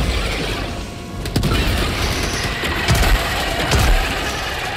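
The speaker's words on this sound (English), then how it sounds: "Throwing grenade!" A grenade blast in the Helldivers II shooter, with sharp booms at about 1.3, 2.9 and 3.8 seconds standing out over a steady mechanical game din.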